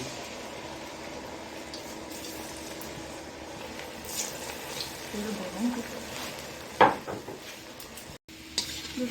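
Sweet potato and pointed gourd pitha fry in oil with a soft, steady sizzle. Occasional utensil clinks and scrapes sound against the pan, including one sharper knock near the end.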